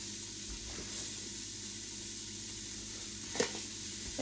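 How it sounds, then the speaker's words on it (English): Onion sizzles steadily in a hot pan, a continuous crackling hiss with a few stirring scrapes, fairly quiet and without voices. "Oh, sizzle, sizzle."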